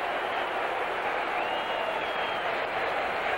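Large football stadium crowd at a 1978 Steelers–Seahawks NFL game, a steady, dense roar of booing and crowd noise that fills the whole clip without letup.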